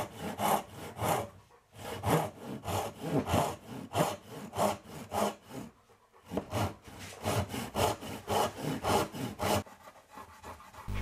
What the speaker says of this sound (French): Ensuite découper dans l'épaisseur, car la tête n'a pas besoin de faire cette épaisseur là.